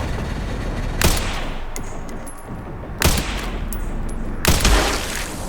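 Gunshots crack out in Resident Evil Requiem, three loud sharp blasts spaced a second or two apart, each with a brief ringing tail over a constant dense background rumble.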